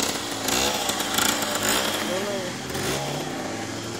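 A moped engine revs unsteadily and loudly nearby, a buzzy two-stroke drone rising and falling under overlapping voices talking throughout.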